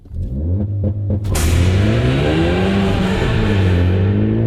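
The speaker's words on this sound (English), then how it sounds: "I'm gonna give this launch control another shot" A Ford Focus ST on Michelin supercar tires launches hard with traction control off, the engine note climbing loud and continuous through the gear as it accelerates away, a steady close roar that holds to the end.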